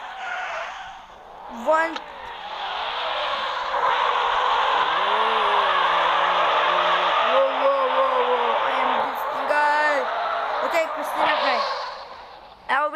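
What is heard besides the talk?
car drifting with tire skid in a driving simulator video game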